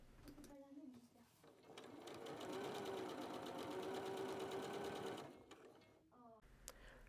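A sewing machine runs steadily while stitching a seam for an invisible zipper, with a rhythmic mechanical whir for several seconds, framed by brief handling clicks and faint speech at the start and end.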